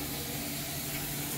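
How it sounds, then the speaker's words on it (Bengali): Thin-cut potatoes frying in hot oil for aloo bhaja, a soft, even sizzling hiss that continues steadily throughout, quiet and without talk. "এদিকে ঝুরঝুরে আলু ভাজা ভাজছে।"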